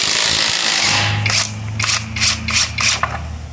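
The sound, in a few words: cordless impact wrench Avhrit AH650 running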